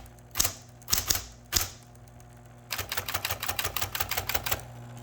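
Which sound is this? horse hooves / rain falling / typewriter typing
typewriter typing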